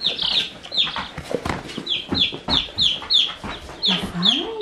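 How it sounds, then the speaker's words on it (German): A young rooster and small chicks cluck and peep in quick, repeated bursts close by, with high chirps recurring steadily through the whole stretch. "Ein kleiner Hahn."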